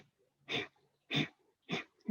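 Kapalabhati breathing: three sharp, forceful exhales through the nose, each close and about half a second apart, with quiet gaps between.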